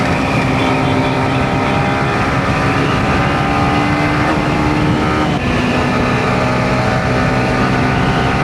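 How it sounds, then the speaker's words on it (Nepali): A motorcycle engine runs loudly and continuously while riding, a sustained throaty drone with slight pitch shifts as the throttle changes, close to the rider. "बाइकले कस्तो पिकअपै नदिएको यार"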